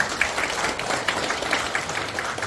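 Steady applause from a seated audience at a special invited lecture in a Korean village gathering, dense clapping with no break for the whole stretch.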